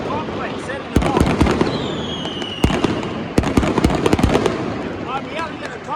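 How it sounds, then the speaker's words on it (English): Chinese New Year fireworks set off around a residential complex, with rapid sharp bangs and crackles close by, several loud booms and whistling rockets overlapping in a dense, echoing barrage. "All these fireworks"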